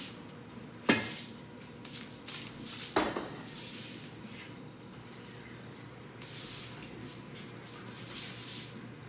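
A lid goes onto a pot holding a sourdough loaf before the pot is set into the oven, making two sharp metallic clanks a couple of seconds apart and a few softer knocks against a quiet kitchen hum.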